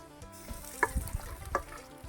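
Ingredients for a crispy-skin duck larb dropped into a boiling, sizzling pan, giving a low bubbling simmer with a few sharp clinks and stirring bursts, close and moderately loud, with no talk.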